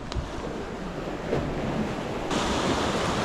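Rough sea waves pounding during a storm surge on a coast at night, a steady loud wash of surf with wind buffeting the microphone, no voices.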